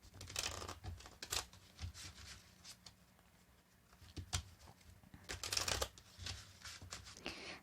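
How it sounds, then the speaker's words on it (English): Tarot cards being shuffled in several quick bursts, crisp riffling and rubbing with short pauses between, close by and with no voices. "Another shuffle, they say."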